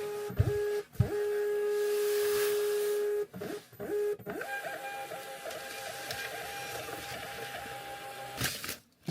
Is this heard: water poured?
no